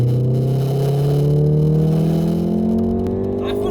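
A car engine burbles and rumbles steadily at close range, its low tone rising slightly as it revs, with no talking.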